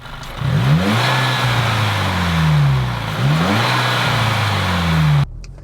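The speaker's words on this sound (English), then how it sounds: "this car has a Neuspeed intake on it, and it sounds pretty good with the hood up" A Volkswagen GTI engine with a Neuspeed aftermarket intake, hood up, revs up and settles back three times in a row, with a deep, throaty intake roar that rises and falls. No one speaks.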